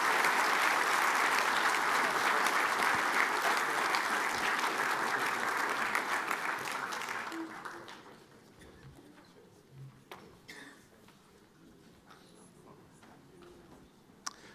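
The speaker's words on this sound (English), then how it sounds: "round of applause." A conference audience at a defence space event claps loudly and steadily for about seven seconds, then the applause fades away, leaving a quiet room with scattered small knocks and shuffles.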